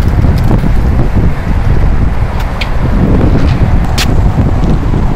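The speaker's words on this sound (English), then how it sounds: "So it's awfully, awfully windy" Strong, gusty wind roars continuously outdoors near a home improvement store's Christmas tree display, buffeting the microphone with loud low rumble throughout.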